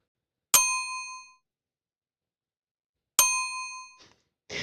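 A handbell is rung twice with a clean bright clang and a long ringing tail each time, the second strike cut short as the bell seems to jam, followed by faint rustling and handling noise.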